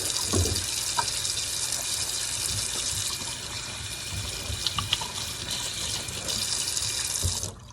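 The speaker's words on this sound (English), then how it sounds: "I'll wash my hands." Tap water runs steadily into a kitchen sink during hand washing while a Thanksgiving turkey and ham are prepared, a close, continuous splashing stream with faint clinks of movement at the basin.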